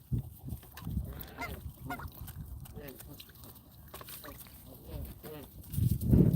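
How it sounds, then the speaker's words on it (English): Ducklings outdoors peep with soft chirps beneath a voice, while a dog sniffs and snuffles nearby, growing louder at the end. "You see the little duckies?"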